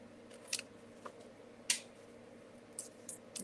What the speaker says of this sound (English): And I'm just going to cut right across the top.